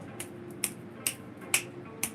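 Sharp, isolated finger snaps or light claps, about five crisp clicks spaced roughly half a second apart, each standing out clearly against a quiet background.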